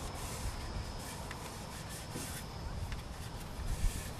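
Soft, steady rubbing of a cloth with mineral spirits over an antique wooden chair, continuous and close, with no talking.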